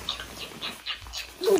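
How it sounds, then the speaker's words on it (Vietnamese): A sleeping dog makes soft intermittent noises, little whimpering breaths and faint nasal sounds spaced irregularly, close and quiet, with a slightly louder burst at the end. "Chó này ngủ mà ồn ghê."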